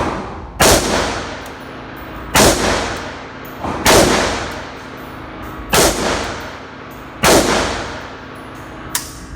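Israeli Galil rifle fired at a shooting range, five loud sharp single shots spaced about two seconds apart, each ringing out with a short echoing decay, close and without speech.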